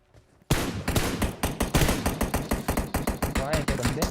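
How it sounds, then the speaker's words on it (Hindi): Sustained automatic fire in the mobile battle royale game PUBG Mobile, an M16 on auto, loud rapid shots in dense bursts starting abruptly after a brief quiet moment, continuing without letup. "यहाँ पे जाके बहुत फायर चालू करते हैं"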